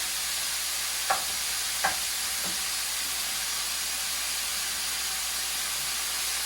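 Thin-sliced marinated meat for japchae, seasoned with sugar, soy sauce and sesame oil, sizzling steadily in a hot pan as it is broken apart, a constant hiss broken by a few faint scrapes.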